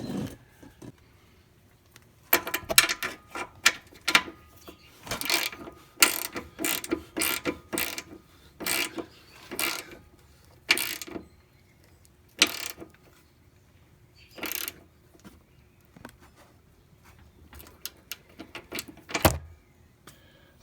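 Ratchet working on bolts under the front end of a Ford Escape, heard as bursts of quick metallic clicking with short gaps between strokes, close and fairly loud, with no talk over it.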